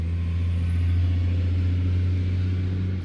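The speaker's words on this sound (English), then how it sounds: "That is a big road train." A big road train truck rolls past close by with a loud, steady low engine drone that holds for about three seconds. A whine and a hiss rise toward the end.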